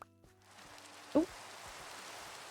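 Minecraft rain, a soft steady hiss of falling drops that fades in and continues quietly, broken once by a short louder thump.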